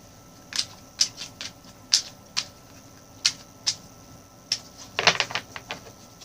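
A deck of tarot cards being shuffled by hand, heard as sharp, close riffling snaps and slaps coming in irregular bursts, with a denser flurry near the end and no talking.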